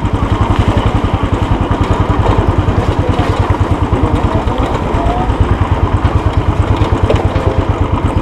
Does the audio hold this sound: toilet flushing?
no